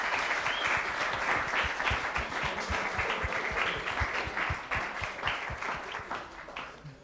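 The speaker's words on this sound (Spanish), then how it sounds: "agradecer tu conferencia con un aplauso." An audience applauds steadily after a science conference talk, with many hands clapping in a dense, even rhythm that lasts the whole stretch and eases slightly toward the end.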